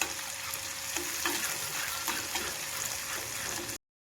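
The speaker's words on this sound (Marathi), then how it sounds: "त्यासाठी खोबरं लसूण कोथिंबीर हे वाटण केलं होतं आणि ते पण असं छान तेलात परतून घेणार आहे" A ground paste of coconut, garlic and coriander sautéing in hot oil gives a dense, continuous close sizzle with faint stirring, alone until it cuts off abruptly.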